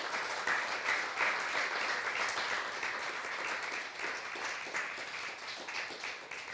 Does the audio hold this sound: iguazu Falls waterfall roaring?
no